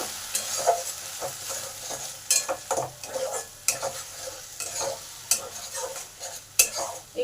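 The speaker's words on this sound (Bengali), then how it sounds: "এবার এই পেঁয়াজ বাটাটাকে একটু ভালো করে কষে নেব" Onion paste is sautéed in a pan for a jackfruit kofta curry, a soft sizzle under repeated sharp scrapes and clinks of a spatula stirring against the metal, with no voices.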